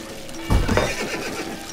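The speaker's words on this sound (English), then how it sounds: "Let's get out some horses." A horse in the video game Age of Empires III gives a loud, close whinny that rises and trails off, with faint clip-clop of hooves underneath and a steady background hum.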